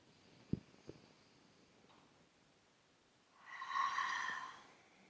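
Quiet room tone, a couple of faint clicks, then a soft, hollow rushing breath through the nose, like distant surf, lasting about a second, from ocean-breath (Victory breath) breathing with the ears covered.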